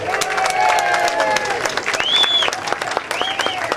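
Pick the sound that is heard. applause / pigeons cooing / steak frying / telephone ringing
applause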